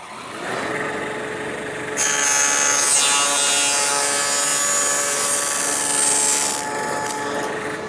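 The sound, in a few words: table saw with dado blade cutting wood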